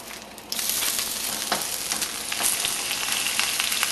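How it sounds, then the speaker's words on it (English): Spinach sizzles and fries in vegetable oil in a hot frying pan while cooking for japchae, a steady loud crackling hiss with occasional sharper pops and stirring. "So I'm going to cook the spinach in some vegetable oil"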